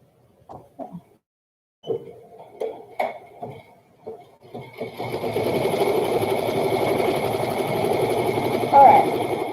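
An embroidery machine stitches quilting on a burp cloth: after a few clicks and handling noises it settles into a steady, fast, close mechanical hum of needle strokes.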